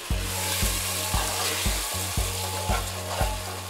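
Sambar spice paste sautés in a hot pan for South Indian sambar, a dense sizzle broken by regular, rhythmic stirring strokes about twice a second, close and fairly loud.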